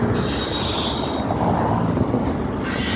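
A Norfolk Southern freight train rolls past on the Delair Bridge with a loud, steady rumble of wagons and wheel noise close by, without a clear horn blast.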